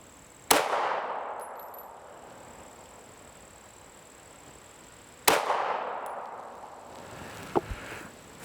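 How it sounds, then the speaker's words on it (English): Two sharp, loud CZ P-07 pistol shots fired at targets on a range, several seconds apart, each with a ringing echo that slowly decays, followed by a faint metallic clink. "First 3 shots, really nice."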